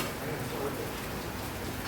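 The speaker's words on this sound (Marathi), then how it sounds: "पाऊस चालला आहे त्यामुळे थांबलो आहे आम्ही" Steady, even rain near Baga Beach hissing across the whole stretch, a broad soft wash of drops falling on a surface with no other clear sounds.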